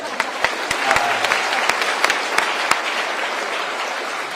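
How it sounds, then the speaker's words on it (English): Students at a school meeting in Iron County applaud one of their classmates, a dense round of clapping from a crowd with sharper individual claps standing out, steady throughout, with some faint voices mixed in. "she deserves a round of applause"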